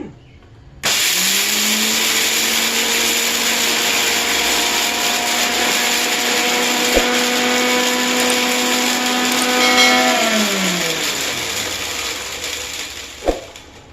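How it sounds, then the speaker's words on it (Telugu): A kitchen mixer grinder grinding spice powder of toor dal, switched on with a sudden loud whirring drone that holds steady, dips in pitch near the end and stops with a click. "మిక్సీలో స్విచ్ చేసుకొని ఆన్ చేసుకుంటే"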